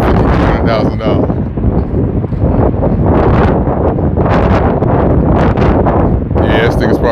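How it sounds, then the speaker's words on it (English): Loud wind buffeting the microphone in heavy, continuous roaring gusts that drown out everything else. "Wind blowing right in my face."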